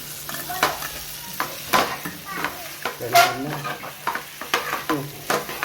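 Sambar with potatoes and dal simmering in a pot while a spoon stirs it, giving repeated scraping and sloshing strokes with a soft bubbling sizzle underneath, close and moderately loud, no talking.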